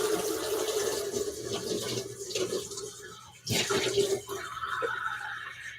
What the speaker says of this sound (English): I'm gonna add water.